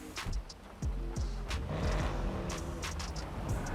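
A car engine in GTA Online revs up and down in short, rising and falling sweeps, fairly quiet, with a few brief clicks between the revs.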